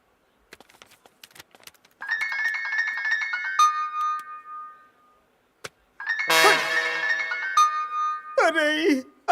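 A mobile phone rings with an incoming call in a Bhojpuri action film scene: two bright melodic ringtone bursts with a short gap between them, preceded by faint clicks and followed by a brief voice.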